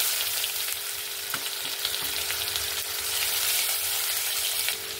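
Bright, continuous hissing sizzle of crushed garlic frying in hot oil, with occasional soft clicks of stirring, close up and without voices.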